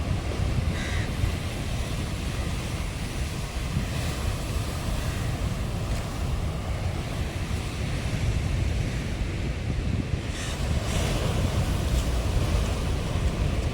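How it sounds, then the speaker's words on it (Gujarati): Loud, steady roar of sea surf at Mangrol port, Gujarat, with heavy wind buffeting the microphone, strong waves surging continuously nearby with no voices. "જો આવે જ કેટલા જોરથી મોજા"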